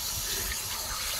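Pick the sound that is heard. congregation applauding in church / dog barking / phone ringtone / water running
water running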